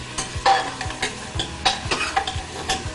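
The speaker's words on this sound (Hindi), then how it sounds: "इसको थोड़ा इसमें सॉटे कर लेंगे" Onions sautéing in a pan, a soft sizzle broken by repeated quick scrapes and taps of a spoon stirring them, close and fairly loud.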